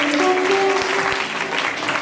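An audience at a carnival show applauds steadily, a dense, loud, continuous clapping that fills the whole stretch with a faint tone underneath.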